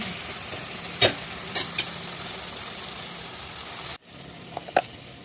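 Fish curry in a pan, with a continuous sizzling hiss and a few sharp utensil clinks as it is stirred, before the sizzle suddenly drops quieter near the end.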